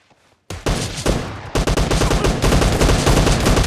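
SKS rifle fire in the video game PUBG Lite: a silent moment, then loud, close shots crack in rapid succession in a dense, continuous volley, with no talking.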